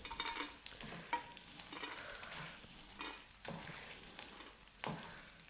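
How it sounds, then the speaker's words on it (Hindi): Edible gum (gond) roasts in ghee in a pan, soft sizzling under repeated scraping and stirring strokes of a spoon, fairly close and quiet with no talking. "जितना अच्छे से आपका गोंद भुना होगा उतने ही अच्छे से आपके बढ़िया तरीके से बनेगी रेसिपी"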